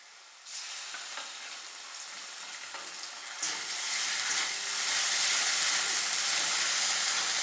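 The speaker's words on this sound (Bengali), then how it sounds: "এবার আমি এই সরষে পোস্ত বাটাটা তেলের উপরে দিয়ে দিয়েছি।" Mustard and poppy seed paste hits hot oil in a pan and sizzles hard, the frying rising in loudness partway through and staying strong and steady to the end, with no talking.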